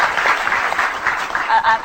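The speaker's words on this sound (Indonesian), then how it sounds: "Tolong tepuk tangan dong buat Pak Jokowi." Brief burst of audience applause on an Indonesian talk show with a host, steady dense clapping filling the short moment at moderate loudness.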